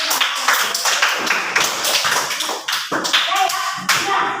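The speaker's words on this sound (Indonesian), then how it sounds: "Ya, tepuk tangan dong." A room full of fifth-grade schoolchildren clap in quick, uneven bursts in a classroom, the applause loud and close with voices chattering underneath.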